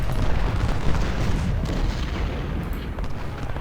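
Heavy artillery fire in the Ultimate General: Civil War battle game, a dense rumbling barrage of booms rolling together continuously and loudly for a few seconds, no voices.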